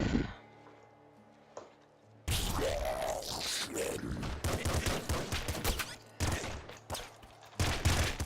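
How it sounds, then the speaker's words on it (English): Gunfire from the Nuclear Throne video game, with an assault rifle firing three-round bursts. Loud bursts of shots sound repeatedly over game effects after a quiet start, with several abrupt breaks. "Assault Rifle, it's obviously good, shoots a 3-round burst."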